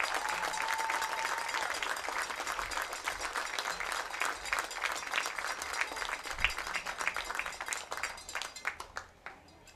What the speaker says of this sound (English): how about one more round of applause for our senior football players?